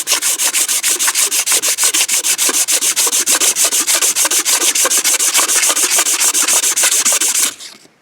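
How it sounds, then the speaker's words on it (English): A razor blade scrapes copper residue off a crankshaft in quick, steady back-and-forth strokes, loud and close, a dense rhythmic rasp that runs unbroken for several seconds before stopping abruptly. "the first thing to do is scrape it off with a razor"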